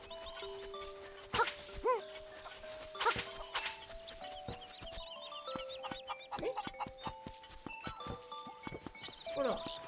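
Dog-like barking yips from the video game Zelda: Link's Awakening, several short chirpy bursts over steady looping game music with chime-like tones, moderately loud throughout.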